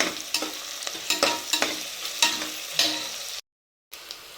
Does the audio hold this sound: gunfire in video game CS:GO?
no